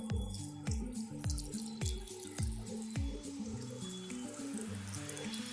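Water poured into a pot of vegetarian minestrone soup, a series of about eight gurgling glugs and splashes in a quick rhythm, close and fairly quiet, tapering off at the end.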